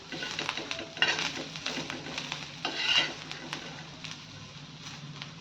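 Green chillies and garlic roast in a pan for a spicy chilli chutney while being stirred, with repeated scraping strokes over a soft, steady sizzle at close range.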